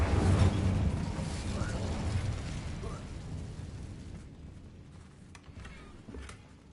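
A fire spell, Incendio, cast in the game Hogwarts Legacy: a loud burst with low rumbling at the start that fades into crackling over several seconds, with a few sharp pops near the end.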